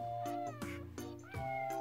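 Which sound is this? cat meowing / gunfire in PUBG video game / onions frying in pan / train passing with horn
cat meowing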